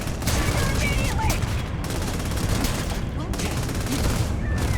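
Rivet gun fired continuously in the space role-playing game Starfield, a dense, unbroken rattle of rapid shots with heavy low rumble, holding steady and loud throughout with no pauses.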